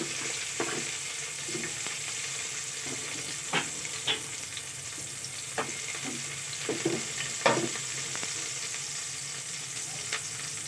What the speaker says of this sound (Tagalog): At isusunod na natin yung ating sibuyas.